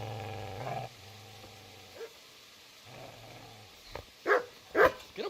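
A dog in Kingdom Come: Deliverance growls low and steadily, then lets out a few sharp barks near the end, moderately close with no talk over it.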